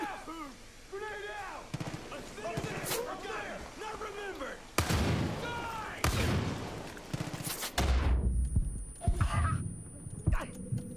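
Gunshots in the Far Cry 5 video game, a run of heavy booming shots and blasts, some very loud, between stretches of voices talking.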